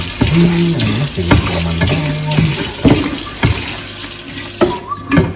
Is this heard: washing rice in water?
yes